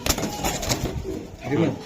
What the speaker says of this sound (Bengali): রেস করা কবুতর ঠিক আছে